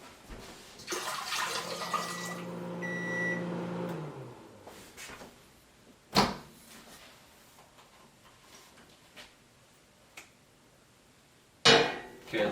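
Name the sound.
water being tipped out onto a reusable notebook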